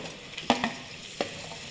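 Onions and mixed vegetables frying in a pan for vegetable pulao, with a low, steady sizzle and a few sharp clinks of a spoon stirring against the pan, quiet and close.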